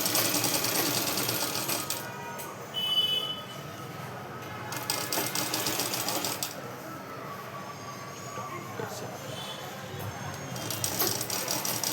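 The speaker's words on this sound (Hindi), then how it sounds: "अब इसको जोड़ते हैं स्टिचिंग। खींचना नहीं है, हल्के हाथ से लगाना है" Sewing machine stitching a blouse, running in a steady continuous whir with short pauses and restarts, loud and close throughout the clip.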